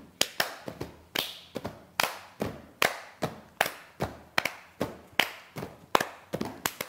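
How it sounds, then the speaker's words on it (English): Children tap bean bags and clap in a steady, repeating rhythm, with sharp close-up hits falling in regular groups of beats and no talking. "we're going to tap on our bean bags and clap"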